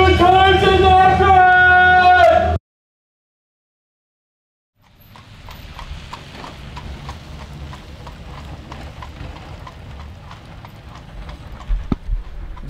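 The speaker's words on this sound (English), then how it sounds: "Yes, that is a horse-drawn carriage, and that's because we're in the middle of Amish country right now in northeastern Ohio" A horse-drawn carriage in the Amish country of northeastern Ohio clops along at a steady, even pace, with a faint rolling rumble under the hooves. A short tonal sound comes first, then a brief silence before the hoofbeats begin.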